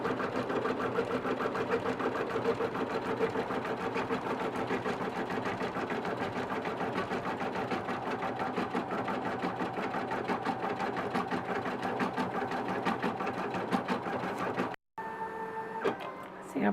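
An embroidery sewing machine stitches a decorative pattern behind a satin stitch on a zip clutch in the hoop, a fast steady mechanical whirr and clatter running continuously before stopping near the end.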